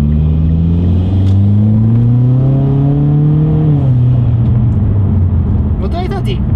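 A white Mitsubishi Lancer Evolution X tuned to about 400 hp cruises in D mode, its engine droning steadily with a rising then falling pitch as it shifts, loud and close inside the car, with a short chirping noise near the end.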